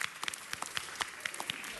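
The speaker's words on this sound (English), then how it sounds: "Let's give her a round of applause." A small round of applause at a city council meeting, scattered moderately quiet claps at a fairly steady rhythm, fairly close to the listener.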